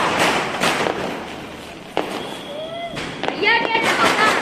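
Firecrackers going off outdoors, several sharp bangs and crackling pops with whistling streaks, loud and nearby amid chatter and shouting voices.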